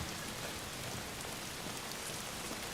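Steady rain from the video game Days Gone falls continuously and evenly, a dense close hiss of drops on surfaces with no voices over it.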